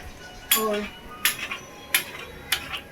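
A cutter slices through layered lachha paratha in four sharp metallic scrapes, evenly spaced and close, each followed by a brief rustle, with no talking.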